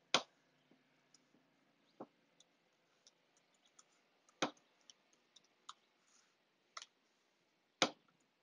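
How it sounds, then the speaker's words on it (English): Keys clicking on a computer keyboard as a new password is entered, with a handful of sharp, isolated taps spaced irregularly and several louder strikes standing out in a quiet room. "Go ahead and you can type in your new password."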